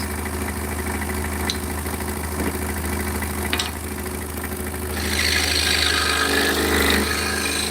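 A power saw runs steadily with an idling engine-like hum while cutting wooden animal shapes in a workshop, its tone rising and growing louder partway through as the blade bites harder into the wood.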